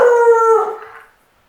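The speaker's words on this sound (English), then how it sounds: "Don't mind my dogs. They're just over each other right now." One of two dogs scuffling with each other lets out a single loud, close howl lasting about a second before it trails off into silence.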